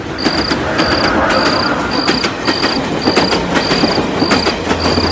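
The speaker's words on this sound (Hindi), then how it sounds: "तभी दूर से ट्रेन की आवाज सुनाई दी" A train passing in the distance behind trees, steady rumble with regular rhythmic clicking from the rails, a repeating high tone and crickets chirping throughout.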